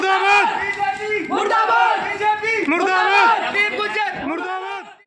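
Crowd in Saharanpur loudly chanting slogans against the BJP, repeated rhythmic shouted phrases in unison, close and forceful, rising and falling in waves across the clip.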